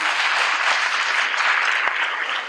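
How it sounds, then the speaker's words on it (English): At a teen conference keynote, a crowd breaks into applause, a thick, even roar of clapping sustained from start to finish with a couple of louder individual claps. "Give her a hand of applause"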